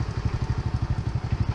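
A motorcycle on a road in North Vietnam, just off a ferry, idles close by with a steady, rhythmic putter of evenly spaced exhaust pulses, heard alone without talk.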